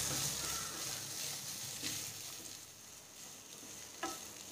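Onions and half a spoon of turmeric fry steadily in a pan for bitter gourd sabzi, a soft, even sizzle with a couple of brief spatula scrapes against the metal.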